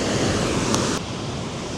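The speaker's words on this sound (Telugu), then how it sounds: "So this is one of the biggest water falls in Telangana." Rushing water at Kuntala waterfall in Telangana, a loud continuous roar of falling water that fills the whole clip, steady and broad with slight wind buffeting.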